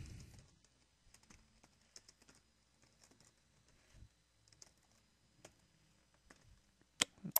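Typing on a computer keyboard while writing website code in Notepad, with faint, scattered clicks in irregular bursts and a couple of sharper, louder taps near the end.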